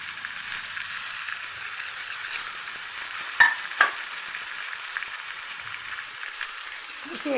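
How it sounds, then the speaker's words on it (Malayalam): Crushed onion, green chili and curry leaves fry in a hot pan, giving a steady soft sizzle with a couple of sharp pops and light stirring clinks; fairly quiet and close, no talk. "ഇനി നമുക്കിതിലേക്ക് ഉള്ളി ഇടിച്ച് വെച്ചത് ഇടാം. അതേമാതിരി പച്ചമുളക്, കറിവേപ്പില ഇടാം."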